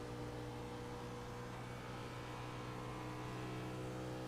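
Race car engine held on a steady, smooth throttle in a racing league sim, a continuous loud mid-pitched drone with a constant tone and no talk.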